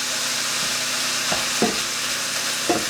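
Sausage browning in a pan on the stove, a continuous loud sizzle with a few soft scraping stirs of a utensil, no voices.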